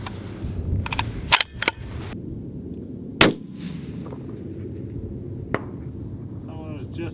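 Rifle shots from a Proof Terminus chambered in 28 Nosler, fired at a 600-yard target: two sharp cracks close together, a third sharp report a moment later, and a fainter pop near the end, all over steady outdoor wind.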